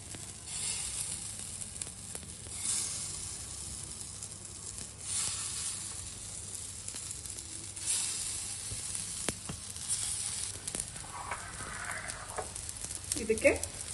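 Palak paneer tikkis shallow-frying in a little oil on a flat pan give off a steady, quiet sizzle with soft hissing swells, plus a few faint scrapes and taps near the end.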